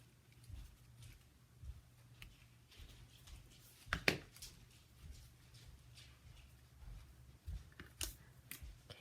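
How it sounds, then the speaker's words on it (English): Scissors snip the ends of a ribbon bow on a garden bouquet, a few quiet cuts with two sharper snips standing out, close and soft against low room noise. "now trim up these ends"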